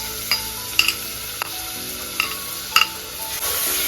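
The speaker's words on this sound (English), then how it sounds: "Once the oil is heated, add onions to this." Onions frying in hot olive oil in a pan for spinach soup: a steady close hiss, with a few sharp utensil clicks and scrapes and a louder sizzle near the end.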